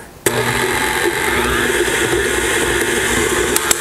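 An electric mixer starts abruptly and whirs steadily while beating shortbread cookie dough flavored with vanilla, a close, loud, continuous motor whine with a couple of small knocks near the end.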